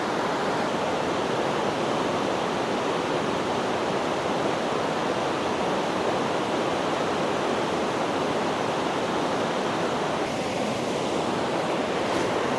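A river in Torridon, Scotland rushes in a loud, dense, unbroken roar of flowing water, close by and steady throughout with no voices.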